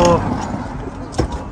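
Horses shift and stamp inside a horse transport truck, their hooves thudding dully on the floor in irregular knocks, with a sharper clatter near the end over a muffled background.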